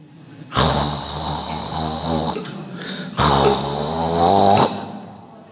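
A voice imitates a sputtering, broken chainsaw with two rough, buzzing bursts separated by a short pause, loud and close.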